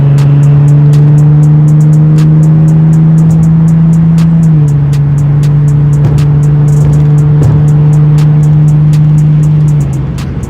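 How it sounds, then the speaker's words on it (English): Infiniti G37 with a muffler delete driving along, its loud raw exhaust droning steadily up close with a brief dip in pitch midway and a drop near the end, no talking. "everybody said they want to hit a muffler delete. There you go. The muffler delete right there."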